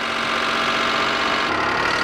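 A cogeneration engine coupled to a generator runs steadily just after start-up, a close, even mechanical hum with a faint knocking rumble and no voices.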